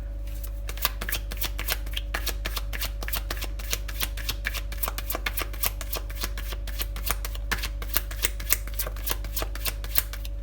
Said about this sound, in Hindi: आपके कार्ड शफल करने में मुझे टाइम लगा